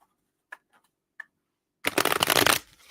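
Tarot cards shuffled by hand: a few soft isolated taps and flicks, then a dense, loud riffling burst lasting about a second before it trails off, close by with no talk.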